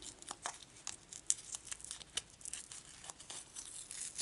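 Tape peels off a small piece of wood after a hole is punched through it for an earring, making a faint series of soft, crackly tearing rips close up.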